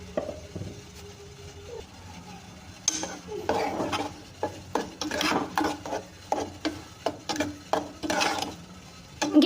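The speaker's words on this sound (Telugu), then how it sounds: "ఇంక ఈ చట్నీని అయితే ఈ పోపులో వేసేసుకుంటున్నాను" Peanut chutney is stirred into a hot tempering with curry leaves in a pan, giving a soft sizzle and a series of scraping, clattering spoon strokes in an irregular rhythm, with no talking.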